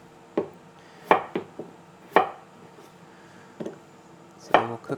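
Knife chopping potatoes into chunks on a cutting board, a handful of sharp, irregular thuds and clacks with quiet gaps between them, close by and without talk.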